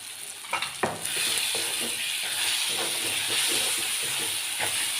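Tomatoes with turmeric, coriander-cumin powder and salt sauté in a pan for a Kathiyawadi eggplant oro. After a couple of stirring knocks, a close, steady hiss holds throughout, with no talking.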